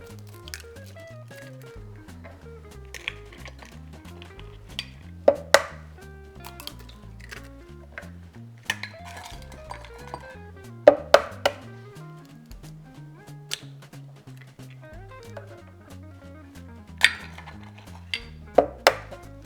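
A few sharp cracks and taps of eggs being broken into a blender jar, scattered irregularly over soft background music.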